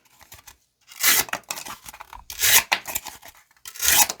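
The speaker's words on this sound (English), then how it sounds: "let's close it up with some box cutting." A CRKT Bamboozled assisted-opening EDC knife slices through a cardboard box in three short, loud tearing bursts separated by brief pauses, each a dry raspy rip close to the ear.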